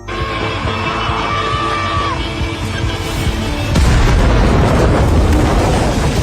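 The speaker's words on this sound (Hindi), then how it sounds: "उसने चुपके से पास रखे विस्फोटक को उठाया, उसे जलाया और गुफा के मुहाने पर फेंक दिया।" An explosive detonating at the mouth of a cave, a sudden loud boom that breaks in partway through and rumbles on, following a stretch of dramatic music and noise.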